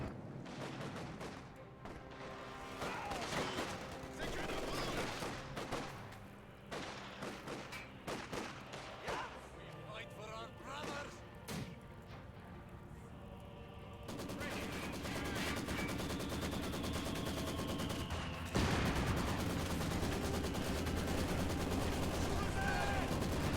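Maxim machine gun in Company of Heroes 2 rattling off bursts of fire amid other battlefield gunshots, with a denser, steadier barrage building toward the end, moderately loud under game noise.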